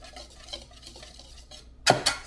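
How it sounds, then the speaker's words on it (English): Dry cookie ingredients whisked in a bowl, soft scratchy stirring taps followed by two louder clinks of metal against the bowl near the end, close and quiet with no talk. "we're just going to whisk this for a minute or two"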